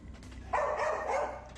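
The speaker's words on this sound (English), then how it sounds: "that's dogs barking and everything" Dogs barking somewhere off in the distance, a single sustained burst of barking that fades out over a quiet, low background.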